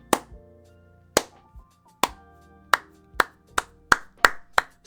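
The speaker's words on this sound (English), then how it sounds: "Start clapping it up for me." Sharp, separate hand claps ring out close and loud, first slow and spaced about a second apart, then quickening into a faster, more regular beat near the end, with almost no voices.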